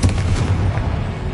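The Confringo explosive spell in Hogwarts Legacy goes off as a heavy, booming blast that rumbles on briefly, loud and close.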